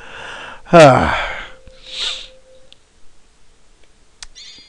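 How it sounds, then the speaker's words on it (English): A loud, high bird-like chirp in the Secret of Evermore video game marks a hidden area, heard as a sharp cry followed by a brief softer chirp, with a faint tone lingering in between. "I don't know if that loud chirp came through"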